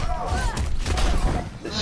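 A shotgun blast in a fighting video game tournament lands as a loud, boomy hit amid crowd noise and commentary, with a voice talking over it.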